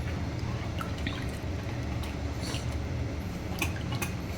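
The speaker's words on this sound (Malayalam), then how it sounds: "കുറച്ചും കൂടെ വെള്ളം ഒഴിച്ചു കൊടുക്കാം." Water is poured into rava dosa batter with steady liquid trickling and dripping close by, soft and continuous throughout.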